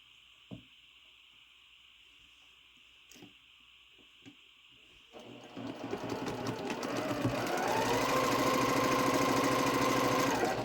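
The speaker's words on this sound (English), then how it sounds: "So I'm just going to sew these all together." A sewing machine chain piecing quilt blocks: after a few faint clicks and a quiet hum, the motor starts and runs in a steady, rapid stitching whir that grows louder and stays close to the end.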